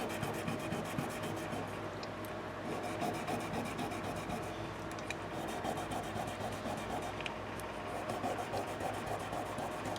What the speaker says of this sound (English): let me take a little bit of my 1000 grit sandpaper. Just going to hit these babies a little bit.